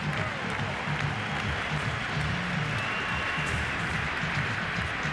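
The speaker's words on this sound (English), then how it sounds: "So Varitek caught the attention of these fans. They're standing and applauding." Fans at Fenway Park during a 2003 ALCS Yankees–Red Sox game stand and applaud Varitek, a dense steady wash of clapping and crowd noise throughout, broad and continuous.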